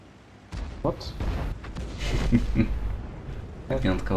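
Tank cannons boom in a World of Tanks battle, with a couple of heavy shots and rumbling bursts while players talk over the gunfire.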